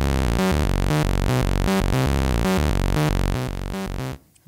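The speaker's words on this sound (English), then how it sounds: "Here's the saw wave." A saw-wave oscillator on a Teenage Engineering POM modular synthesizer plays a steady repeating sequence of bright, buzzy notes at a driving even pulse, loud and alone, then cuts off near the end.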